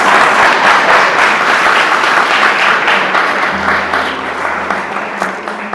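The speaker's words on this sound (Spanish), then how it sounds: "Démosle ese aplauso a Jesús" Worshippers in a church service give a loud round of applause for Jesus, dense clapping that gradually thins while a low sustained organ or keyboard tone enters underneath.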